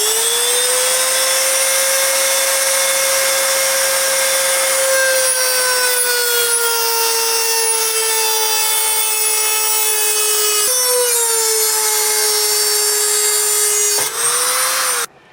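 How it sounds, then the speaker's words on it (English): Dremel rotary tool cutting through the metal of a Whirley Pop popcorn popper, a loud, steady high-pitched whine that dips slightly under load and then cuts off abruptly at the end. "How I cut it with a Dremel, you can use a saw to cut it."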